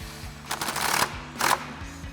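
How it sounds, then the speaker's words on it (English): An 8mm swivel socket and extension on a ratchet tightening a headlight mounting bolt on a 2021-2023 Ford Bronco, two short bursts of rapid ratcheting clicks close by, with quiet pauses between. "we'll take our 8mm swivel socket and extension and tighten down our bottom mounting bolt here."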